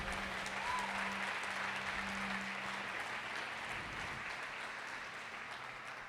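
Applause from a church congregation after a sermon on forgiveness, a steady soft wash of clapping hands that stays even and fairly distant for several seconds, with a low hum underneath.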